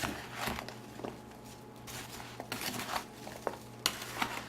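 Apple pie filling with cinnamon being stirred in a bowl, a soft, close scraping and squelching with irregular strokes, quiet and without talk.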